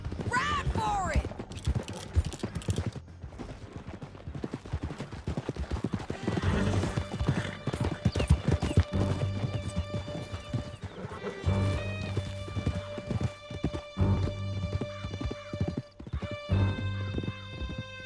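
Horses galloping in Red Dead Redemption 2, with steady clip-clop hoofbeats, occasional neighs and whinnies, and voices talking over the ride.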